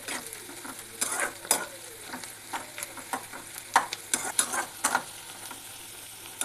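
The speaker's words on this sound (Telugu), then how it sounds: "ఫ్రై చేసుకున్నాం." Mutton curry ingredients with onions frying in a pan, a soft sizzle under repeated sharp scrapes and clinks of a spoon stirring against the metal.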